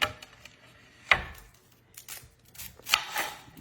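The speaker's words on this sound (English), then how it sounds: "we're going to chop us up an onion before we put it on" A sharp new knife chops an onion on a board in a few quiet, irregular cuts, close and soft.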